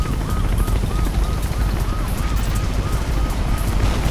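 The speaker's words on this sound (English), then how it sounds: "Chopper spotted." Helicopter in the video game Mirror's Edge, a steady rotor drone with a repeating chop under dense low rumble and game noise, loud and continuous throughout.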